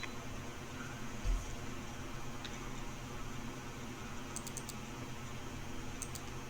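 A computer keyboard with a few light, sparse key clicks spread over several seconds, as when Control Shift Enter is pressed, faint against a steady hiss of fan-like background noise, no voices.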